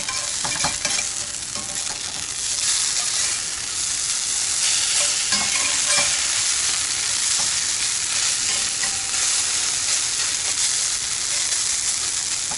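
Vegan hash browns frying in a pan, meant to turn crispy without burning: a loud, continuous dense sizzle and crackle throughout, with a few scraping touches and no talk.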